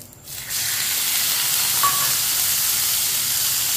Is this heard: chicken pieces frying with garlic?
yes